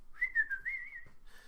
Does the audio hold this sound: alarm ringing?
no